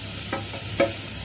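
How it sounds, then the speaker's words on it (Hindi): Tomatoes go into a frying pan for leftover upma and are stirred, giving a short sizzle with a couple of scraping stir strokes, close and alone. "अब मैं इसमें डाल दूंगी टमेटोज।"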